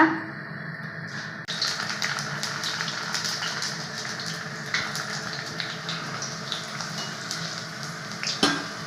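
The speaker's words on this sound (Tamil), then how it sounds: "இப்போ எண்ணெய் நல்லா காஞ்சிடுச்சு இப்போ நம்ம அந்த பூரி பொறிச்சு எடுத்துக்கலாங்க" Puris deep-frying in hot oil for homemade pani puri: a loud, dense, continuous sizzle and bubbling close up, with an occasional clatter of a utensil, no voices.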